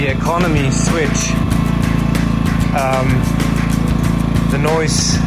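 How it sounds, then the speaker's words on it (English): A portable camping generator's engine idles in economy mode, a steady low drone with a constant mechanical hum throughout, while a person talks over it close by. "the noise goes a little bit down because the engine is now idling"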